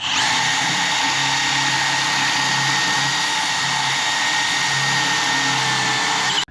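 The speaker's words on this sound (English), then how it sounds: "And then you can keep the process going and drill your other one." With a Kreg jig guiding it, a power drill bores a second pocket hole in hardwood, a loud steady high whine running without a break until it cuts off abruptly at the end.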